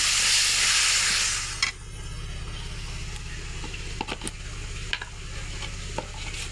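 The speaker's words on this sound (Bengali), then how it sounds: "চিংড়ি মাছ আর পেঁয়াজটা ভাজা হয়ে গেছে। এখন আমরা এতে হালকা পরিমাণ পানি দেব মশলা দেওয়ার জন্য।" Water poured onto fried shrimp and onion in a hot pan bursts into a loud hiss for over a second, then eases into a steady bubbling sizzle with light spoon taps and stirring.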